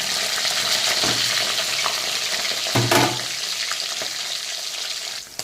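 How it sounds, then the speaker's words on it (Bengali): Fish pieces frying in a pan give off a steady, loud sizzle with broadband spatter throughout, plus a brief bump of handling around the middle; no one speaks. "সুন্দর করে মাছটাকে আমি এখন ভেজে নেব।"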